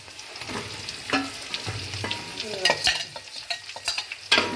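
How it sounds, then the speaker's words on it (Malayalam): Chopped onions hit hot oil for a chicken curry and are stirred around the pan, giving a loud, steady sizzle broken by repeated spoon scrapes and clanks against the metal. "അരിഞ്ഞ് വെച്ചിരിക്കുന്ന ഉള്ളി ഇട്ട് കൊടുക്കാം"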